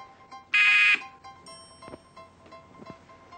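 A single loud electronic game buzzer blares for about half a second, followed by quiet room noise and faint tones.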